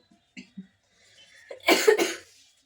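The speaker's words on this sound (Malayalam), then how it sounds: "അതിന് പിന്നെ ചുമയ്ക്കാൻ തുടങ്ങി" A few soft sounds lead into a single burst of harsh coughing, two or three close coughs in quick succession, then quiet.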